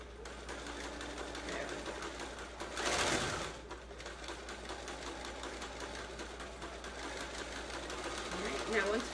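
Sewing machine stitching a fabric produce bag runs with a steady whirring, mechanical hum at moderate volume, a brief louder burst midway, while people speak over it.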